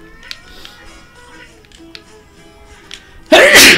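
A sharp, loud sneeze bursts out near the end after a stretch of quiet video game music and faint sound effects.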